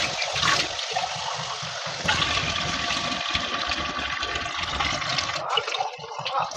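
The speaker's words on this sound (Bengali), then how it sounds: "এবার জল দিয়ে দেবো" Water poured into a pan of spiced curry makes a loud, continuous rushing splash held close throughout, with a brief swell near the start and a slight fade toward the end.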